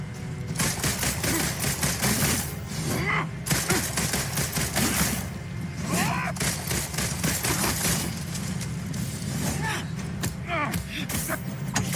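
Sustained rapid gunfire from a Marvel's Avengers boss fight against Taskmaster, dense bursts of shots with thuds running continuously and loudly, with a voice speaking intermittently over the shooting.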